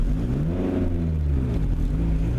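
A 1999 Ford Escort ZX2 engine runs steadily while driving, a continuous mid-pitched hum with audible harmonics that rise and dip slightly as the car moves, close and alone without talk.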